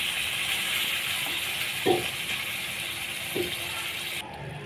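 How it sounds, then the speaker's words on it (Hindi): Half a cup of water pours steadily with a hissing rush into a pan of browned keema, a couple of soft clinks along the way, before the flow stops. "अच्छे से भून के आपने आधा कप पानी का शामिल कर देना"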